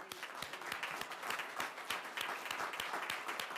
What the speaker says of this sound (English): So let's give a big round of applause for Jace.